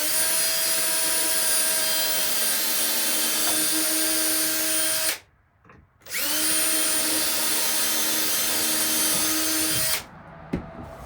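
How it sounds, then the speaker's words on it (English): A power drill works on rusty hinge screws, running in long steady whining bursts with a short pause and restart midway, then stopping near the end, with no talking. "I've got to drill these two here."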